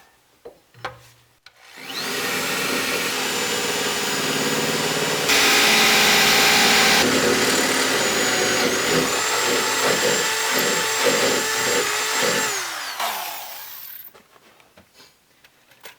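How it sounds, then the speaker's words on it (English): A power drill whines steadily at high pitch for several seconds, biting through the metal body of a Mazda Miata with a grinding rattle before spinning down. "We're now going to drill the last set of holes here in the front."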